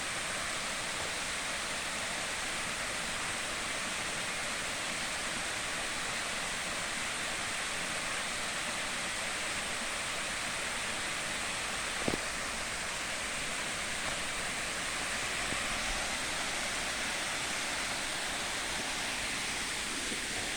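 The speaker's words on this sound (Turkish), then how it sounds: "Biraz da derenin sesini dinleyelim." Constant rushing water of a flowing stream, broad and steady, with one faint knock partway through and no voices.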